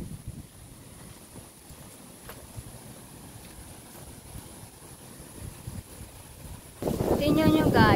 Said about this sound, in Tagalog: Grabe ng hangin